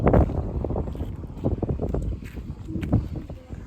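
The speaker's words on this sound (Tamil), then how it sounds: "காற்றும் நல்லா அடிச்சு கொண்டு இருக்குது" Strong wind gusting over the microphone outdoors in a natural Sri Lankan setting, a continuous loud rumbling buffet that swells and dips throughout.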